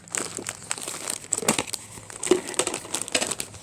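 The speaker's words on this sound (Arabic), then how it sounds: "هفضي بقى يا ست البنات الشعريه، عندي كام كيس كده مفتوحين" Plastic bags of vermicelli crinkling and rustling up close as they are opened and emptied in a home kitchen, a busy, irregular crackle without speech.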